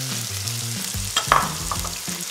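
Chunks of beef, onion and carrot sizzle steadily in a Cookeo multicooker while a utensil stirs them, with a few louder scrapes midway and a continuous close frying hiss throughout.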